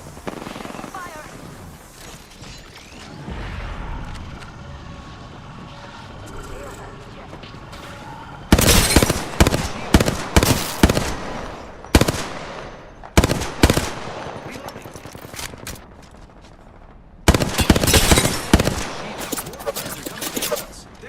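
Bursts of automatic gunfire in the video game Apex Legends during a championship match, loud rapid volleys in clustered bursts after a quieter stretch, with brief pauses between, while voices talk over the action.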